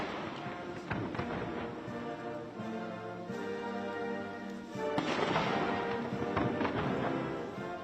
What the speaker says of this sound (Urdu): امریکی صدر کے استقبال کے موقع پر توپوں کی سلامی دی گئی۔